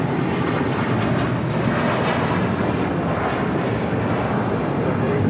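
At Los Angeles International Airport an airplane's engines roar loud and steady throughout, a dense unbroken rumble with no pause.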